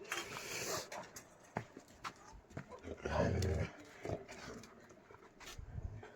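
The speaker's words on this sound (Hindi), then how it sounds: "रात को कुत्तों ने भौंकना भी शुरू कर दिया है" Dogs bark at night in a village in Uttarakhand, several separate barks and yelps spread irregularly across the stretch, some near and some farther off, against a quiet background.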